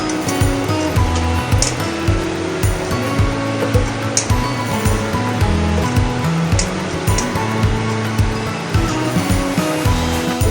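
Chicken pieces are added to a hot pan on an induction cooker, producing a steady, close sizzle that swells and eases in rough pulses with occasional clatter.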